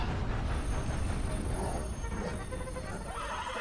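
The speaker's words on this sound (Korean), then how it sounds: "때마침 벌써 기차 한 대가 지나가고 있네요" A train in the video game Red Dead Redemption 2 rolls past with a continuous, loud rumble and a faint high squeal from the wheels, steady throughout with no break.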